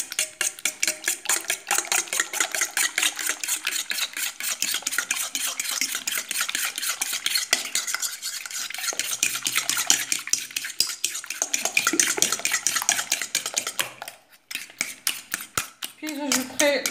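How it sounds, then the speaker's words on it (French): A spoon scrapes and clinks rapidly against a pot while stirring paprika into a cauliflower tajine mixture, continuous brisk metallic stirring with a short pause near the end before it resumes. "Je mélange d'abord tout ça."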